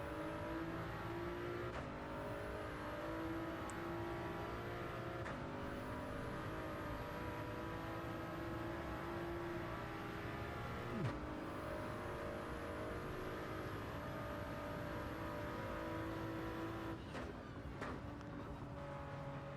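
Race car engine in Gran Turismo 7 on the Le Mans circuit, a sustained droning roar with shifting gear pitches and brief upshift breaks, steady and moderately loud throughout with no talk.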